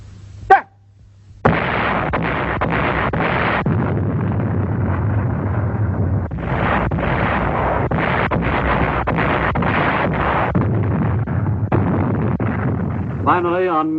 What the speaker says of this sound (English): the Japanese bombarded the island fortress with every weapon at their command